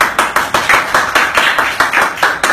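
A small group at a scuba equipment maintenance course claps in a quick, regular rhythm, loud and close, the sharp hand strikes evenly spaced throughout.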